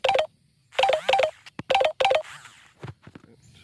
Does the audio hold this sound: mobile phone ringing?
yes